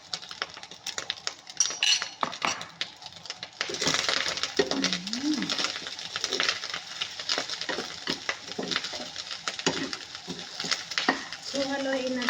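Egg mixed in a pan with a metal utensil, brisk repeated scraping and clinking of metal on the pan that grows busier partway through, close and loud, with brief bits of background noise.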